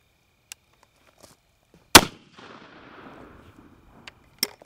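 A shotgun fires a single buckshot load, one sharp, loud blast followed by a decaying outdoor echo, with a few faint clicks and knocks before and after.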